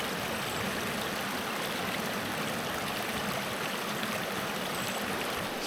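Waterfall stream in the Pacific Northwest, a steady loud broadband rush of falling and flowing water, unchanging throughout with no voices.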